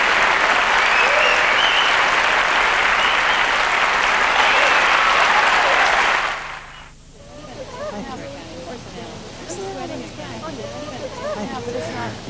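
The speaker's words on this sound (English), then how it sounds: "Listen to that applause." Loud, dense audience applause at a church festival stage show fills the first six seconds, then cuts off abruptly to quieter background sounds and murmur.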